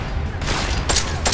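Continuous loud gunfire in Deus Ex: Mankind Divided, a dense rattling burst of shots with booming low end over the whole brief moment.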